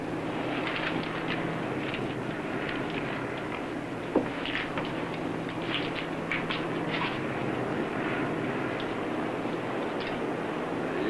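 A plane's engine drones steadily in flight on the way to a parachute jump zone, a constant, fairly loud rumble with one brief sharp click partway through.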